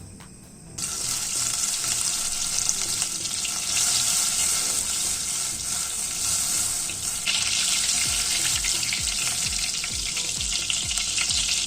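Butter and oil sizzling in a pan at the start of a tomato soup, a loud, hissy, continuous frying sound close up with faint scraping and stirring underneath, no voices.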